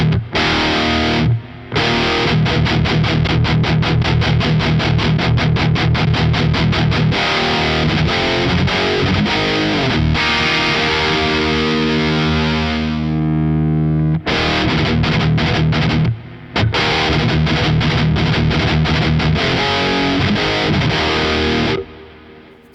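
An electric guitar played through an Origin Effects Halcyon Green overdrive pedal in 808 mode, with loud, distorted fast strummed chords and rhythmic chugging, a sustained ringing chord in the middle, then more driven strumming, with no talk.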